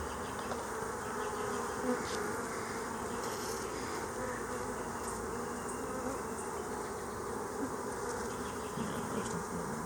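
A dense, steady drone of many honeybees buzzing together inside a hive, close by and continuous, with no voices.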